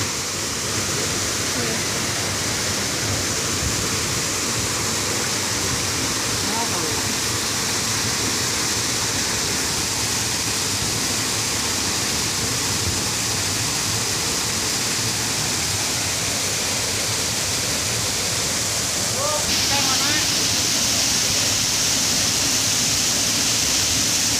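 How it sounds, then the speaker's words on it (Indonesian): Curug Benda waterfall in Majalengka roars as a dense, continuous wash of falling water, loud and close, with wind buffeting and faint voices beneath. "untuk melihat keindahan air terjun Curug Benda"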